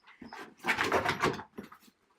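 A dog runs across a wooden deck, its paws drumming in a quick galloping rhythm like a horse, a couple of nearby bursts of thumping steps at moderate loudness.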